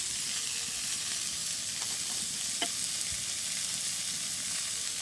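Onions fry in oil with a pinch of salt in a village kitchen, a steady sizzle running throughout while a utensil stirs them, adding a few brief scraping strokes; no one speaks.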